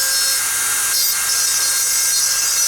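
A rotary tool cuts through the metal axles of a Matchbox Porsche 911 Turbo diecast car with a continuous, loud, high-pitched grinding whine, close and steady throughout.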